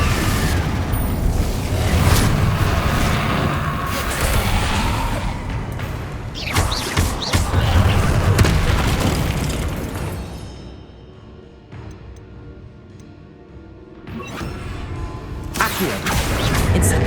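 Spell blasts and explosions burst out in Hogwarts Legacy combat: repeated booms, whooshes and thuds cluster in dense bursts, then drop into a quieter lull before another loud blast returns near the end, with no voices.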